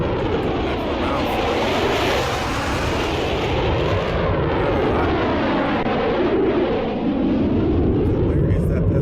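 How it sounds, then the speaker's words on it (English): An F-18 fighter jet roaring overhead during a Fleet Week air show, a loud, continuous jet-engine rumble that swells and shifts in pitch as it passes close by. "where is that pesky F-18? He's coming back from round 3 as well."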